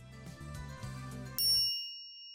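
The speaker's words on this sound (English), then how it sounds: "A chime signals our arrival on the fifth floor." Elevator arrival chime from the video game Steins Gate, a single bright ding ringing out over background music and sustaining briefly before fading into silence.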